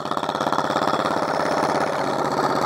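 An off-road Dynamonster vehicle's engine chugs loudly and close in a steady, rapid rhythm while the driver works to get it into gear.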